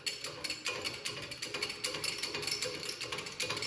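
A jack on a homemade press brake is pumped while bending 1/8-inch by inch-and-a-half steel, producing a fast, continuous rhythmic ratcheting clatter at moderate, steady loudness throughout.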